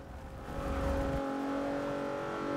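A tuned 1999 Mitsubishi Evo race car in Forza 6 drones steadily at high revs through a league race, a close, continuous engine roar that dips briefly before holding a constant pitched note, with no voices.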